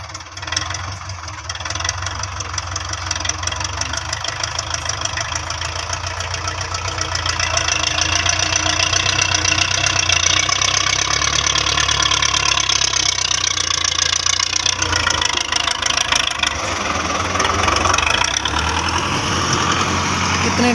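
A Belarus 510 Russian tractor engine runs continuously nearby during a tractor contest, a loud steady diesel rumble and clatter that rises slightly in intensity midway and stays constant, with no clear talk over it.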